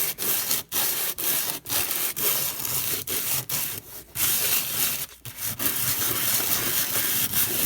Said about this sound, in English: I'm going to turn my sandpaper just a little bit